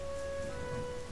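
Steady rain in the video game Exploria, a constant dense hiss of falling drops under a sustained tonal hum from the game's soundtrack, with no talk.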